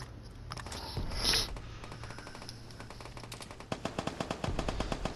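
Gunfire from shooting in the online shooter Vigor, rapid bursts of automatic fire crackling steadily through the clip, growing sharper and closer toward the end, with a louder burst near the start.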